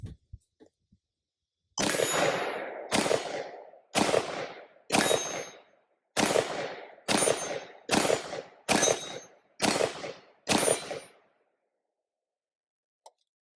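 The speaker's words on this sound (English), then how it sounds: "let's see if it functions on the Brownells 180 and see how hard it hits that steel target" Ten sharp shots of 55-grain frangible ammunition from a Brownells BRN-180 rifle strike a steel target, each a hard crack with a ringing metallic decay, spaced about a second apart before a long silence.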